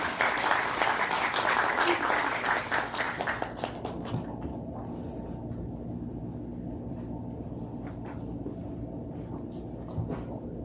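Audience applause at a peace forum marking the armistice anniversary, a dense, loud wash of clapping that fades out over several seconds into room murmur and scattered claps.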